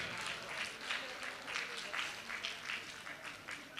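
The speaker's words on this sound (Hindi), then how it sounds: "जोरदार तालियां हो जाए।" Audience applause at a Ramayan conclave stage event, steady clapping from a crowd with a voice faintly underneath.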